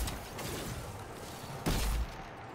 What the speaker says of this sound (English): I'm using the grenade launcher Wendigo.